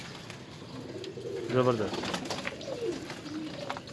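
A Ferozpuri pigeon gives a brief, soft coo, heard close over a low background hum, with someone speaking a single word nearby.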